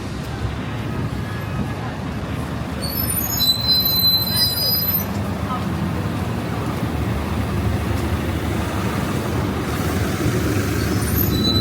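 NYC subway train at a station where the R and W lines stop, a loud steady rumble of cars with high metallic wheel squeals breaking through midway.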